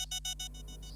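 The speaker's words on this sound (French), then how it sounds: "Et là j'ai cru que c'était vraiment le réveil," In the Murder Drones cartoon, an alarm clock rings in quick rapid pulses that start loud and fade into a steady electronic hum.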